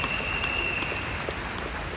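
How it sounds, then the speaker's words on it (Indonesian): A large seminar audience in Jakarta applauds the founders of a team, a dense, even wash of clapping that holds steady without pause. "Saya pinjam tepuk tangan yang paling meriah untuk founder dan co-founder tim 37"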